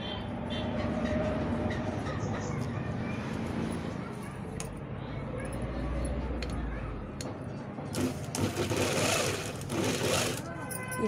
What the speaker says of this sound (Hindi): उसके बाद हम सिलाई लगाएंगे।